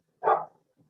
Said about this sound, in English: anytime I hear that little bark, it brings so much joy to me